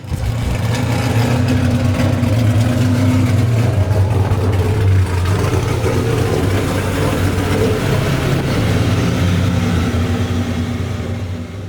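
A 900 hp naturally aspirated NASCAR V8 in a street-legal Toyota Tacoma truck drives with a loud, steady, close engine roar, deep rumble held throughout with slight rises in revs.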